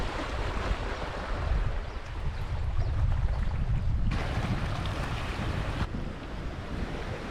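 Sea waves wash steadily onto a quiet beach at Krabi, Thailand, with strong wind buffeting the microphone into a constant roar and no voices.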